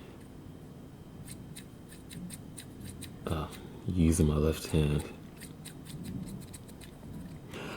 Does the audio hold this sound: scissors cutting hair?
yes